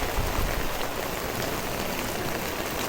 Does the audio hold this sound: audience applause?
no